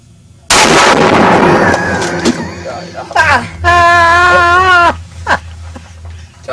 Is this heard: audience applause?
no